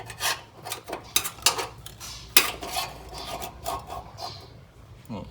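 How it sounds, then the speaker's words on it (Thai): Irregular scraping strokes of a hacksaw blade cutting through a bolt on a 1.9 diesel engine's EGR, rasping back and forth in short uneven bursts, close and moderately quiet. "แล้วเราก็เลื่อยออก"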